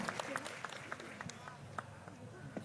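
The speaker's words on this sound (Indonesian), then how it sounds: "Sekali lagi tepuk tangan" An audience at a gathering gives scattered, fairly faint applause, loose individual claps popping irregularly over a steady murmur of voices.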